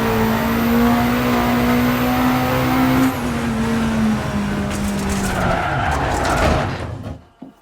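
A hillclimb race car revs hard and drives off, a loud close engine drone with tire squeal and skidding, the pitch sliding as it pulls away and fades out at the end.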